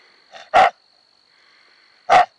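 Two sharp, loud dog barks spaced over a second apart, the first preceded by a short softer yelp, with quiet between them.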